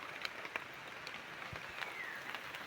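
Rain falls steadily in the woods around a large tree during an eaglet rescue, a faint, even hiss of drops with occasional soft patters, distant and quiet.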